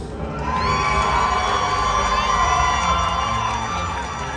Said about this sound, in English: Raise a mighty cheer for all of your hard-working squires!